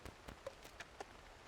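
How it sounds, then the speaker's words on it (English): Rain falling in the survival game The Long Dark, a soft steady patter with a few brief droplet taps standing out, quiet and with no voices. "it's raining"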